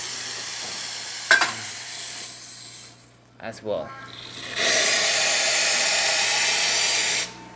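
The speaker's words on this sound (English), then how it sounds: "as you can see from the steam coming out of the machine and from the hot water" Steady steam hiss from a Profitec espresso machine, broken by a short gap and a few clanks, then a louder, sustained hiss; a voice speaks briefly.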